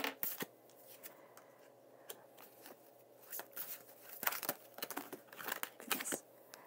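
Tarot cards are shuffled up close in a quiet room: a crisp series of riffling, flicking snaps that grows busier and louder toward the end, with no talking.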